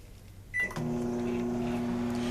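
A microwave oven heats a batch of hot process soap: a click and short beep as it starts, then a steady near hum with a fixed tonal whine running alone.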